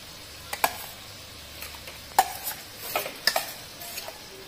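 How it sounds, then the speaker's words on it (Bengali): Lentils for bhoger khichuri being stirred in a pan with turmeric give a soft, gentle sizzle under repeated scraping strokes of a spoon, with a few sharper clicks against the pan. "হলুদ দিয়ে একটু নাড়াচাড়া করব, করে এবার আমি ডালটা দিয়ে দিব।"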